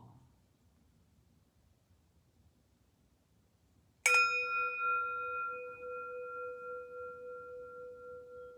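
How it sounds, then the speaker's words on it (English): A meditation bell struck once, ringing out clear and loud after a few seconds of near silence, its bright tone sustaining and slowly fading with a gentle shimmer. "slide into our meditation that I will begin with a bell"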